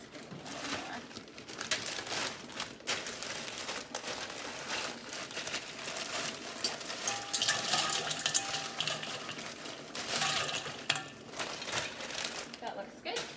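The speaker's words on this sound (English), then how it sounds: "So we're gonna use cold water and pour it in a bowl here." Cold water running and splashing into a bowl for an ice bath, a steady close-up pour with rustling and clinks under occasional talk.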